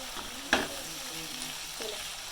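Chicken frying in ghee for a zucchini chicken dish, a continuous sizzle with a sharp stirring clatter near the start, close and alone.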